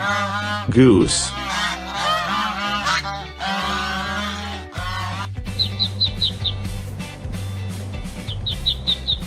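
A goose honks in loud, harsh calls near the start, followed by quieter chirping bird calls in a repeating pattern, with music underneath.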